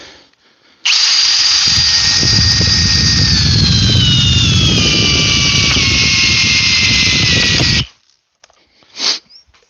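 A power drill whirs loudly and steadily for about seven seconds, its pitch sagging gradually under load before it cuts off abruptly, followed by a brief faint clatter.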